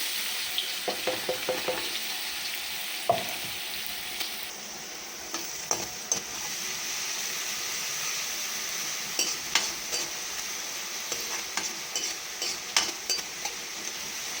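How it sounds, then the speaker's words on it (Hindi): Chopped onion and garlic with cumin sizzling in a pan for a baingan bharta, a soft steady fry punctuated by spoon stirring and scraping clicks, fairly quiet and close, with no talking. "और जो प्याज और लहसुन मैं चॉपर में किए थे वो डालूंगी।"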